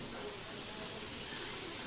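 Chopped carrot, cabbage and beans tipped into a hot oiled wok for street-style veg chowmein, a loud continuous sizzling hiss that fills the whole short moment.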